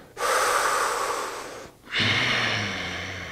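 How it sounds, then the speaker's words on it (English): Deep breaths during a muscle-activation exercise: a long, close, airy inhale followed after a brief pause by a second breath with a slight nasal snort, no talk over them. "Take a big breath in."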